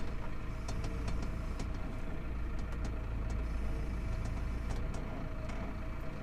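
A tractor engine runs steadily while spreading slurry on a farm, a constant low rumble with mechanical clatter and scattered faint ticks, heard from a moderate distance.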